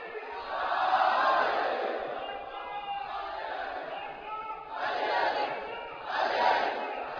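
A crowd at a Ramadan majlis religious gathering in India shouts a slogan in unison, loud swelling bursts of voices rising and falling with brief quieter gaps between calls.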